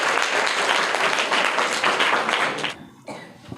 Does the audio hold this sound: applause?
yes